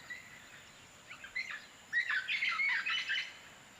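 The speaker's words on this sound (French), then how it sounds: "là, il y a des oiseaux extraordinaires" Birds in a tropical volcanic forest squawk in rough, overlapping bursts, a few short calls at first and then a denser run of harsh cries, fairly close against a quiet background with no talking.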